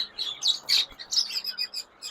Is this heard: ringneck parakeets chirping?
yes